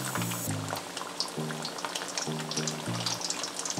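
Pieces of green plantain fry in hot oil with a steady, dense sizzle and bubbling, close and moderately loud, heard alone.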